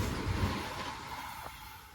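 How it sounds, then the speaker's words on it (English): A CSX freight train rolls past at Lake Avenue in Blasdell, New York, giving a steady rumble of rail cars with a faint wheel squeal, heard from trackside at moderate loudness with no voices. "CSX train!"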